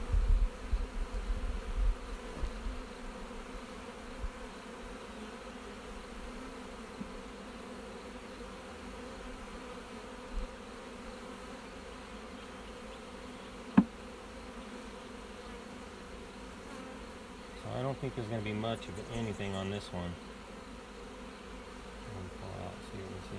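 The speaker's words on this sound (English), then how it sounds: "There are bees on it." Bees buzz softly and continuously around a beehive frame, a low steady hum with a few sharper bursts of activity, and a person speaks briefly at the start.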